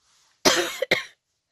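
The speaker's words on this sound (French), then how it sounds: "je tousse encore" Two sharp coughs in quick succession, close and loud, followed by silence.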